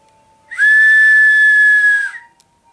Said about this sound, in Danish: Og det var en høj lyd, fordi det er en lille fløjte.